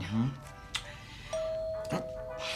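A doorbell chimes once with a sustained ringing tone indoors, a single ding-dong against quiet room noise.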